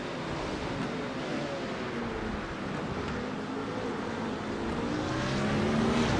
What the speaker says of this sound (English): let's go back down low so we can hear some of these engine noises here